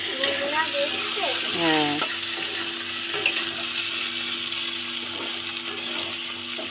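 Potatoes frying in a pan with fish heads, a steady close sizzle with stirring scrapes throughout and a brief spoken word.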